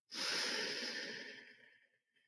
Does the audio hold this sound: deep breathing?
yes